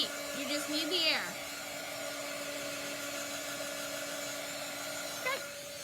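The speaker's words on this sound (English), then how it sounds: "You're gonna just use a hair dryer." A hair dryer blows with a steady whirring drone from start to finish, with a brief whine and a short voice-like sound over it early on.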